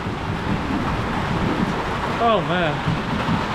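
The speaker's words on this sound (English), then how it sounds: "noise due to the rain hitting the top of it." Heavy rain drums steadily on the top of a shelter in Bangkok, a dense close hiss throughout, while someone speaks a brief exclamation over it.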